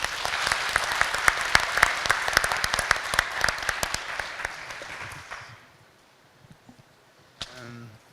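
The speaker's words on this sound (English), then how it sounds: "So can we give him a round of applause?" An audience applauds a speaker at a medical talk, a room of dense close clapping that fades out after about five seconds, followed by quiet and a brief voice.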